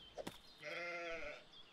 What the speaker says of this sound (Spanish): lo que se ha escuchado es la cabra